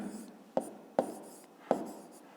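Pen strokes on paper while math homework notes are written, three distinct taps or ticks among soft scratching, close and fairly quiet.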